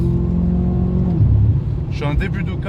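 A BMW M5 F10 pulls hard in fourth gear with its tyres spinning and the traction control cutting in, its engine droning loud and close before the pitch dips, then a voice cuts in near the end.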